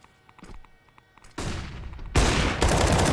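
Gunfire rings out in a professional Counter-Strike: Global Offensive match. Faint clicks and distant shots are followed by three loud, close bursts of rapid rifle fire, each one stronger than the last.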